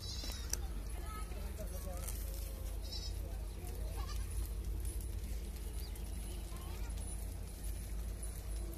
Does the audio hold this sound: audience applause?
no